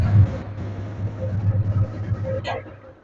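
Idling engine of a modified second-hand 160cc motorcycle with Dhaka Metro registration, a steady low throbbing rumble held close and fairly loud throughout, with no speech.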